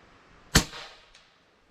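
Single airgun shot fired through a chronograph, a brief sharp pop up close followed by a short fading tail and a faint second tick, otherwise quiet.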